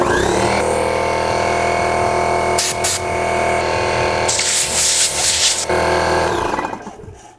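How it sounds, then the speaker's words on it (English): Air compressor switched on and running while a custom pro scooter is being built, a loud, steady mechanical drone with bursts of hissing air partway through before it winds down at the end. "we're definitely gonna need some more pressure in this air compressor, so let me just turn this on"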